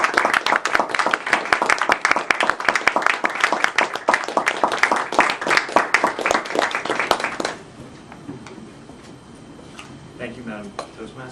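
A Toastmasters club audience claps loudly and continuously for about seven seconds in welcome, then the clapping stops abruptly and quiet room noise follows.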